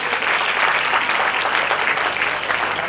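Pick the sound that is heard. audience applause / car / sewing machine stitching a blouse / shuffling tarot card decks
audience applause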